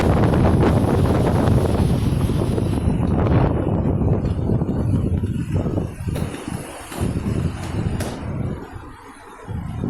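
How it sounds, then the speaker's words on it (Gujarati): Strong wind blows and buffets the microphone on a temple rooftop where a flag is flapping. The roar is loud and steady at first, then eases into gusty, uneven bursts. "ધજા જો ધજા કેવી ફરકે છે પવનની લીધે આ રીતની ધજા ફરકે છે"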